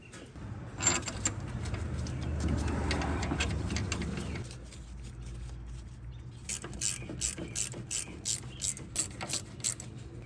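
A ratchet wrench clicks rapidly and crisply while tightening wheel hub bolts on a Ford Ranger, a string of short, evenly spaced ratcheting bursts after some earlier rustling and mechanical clatter.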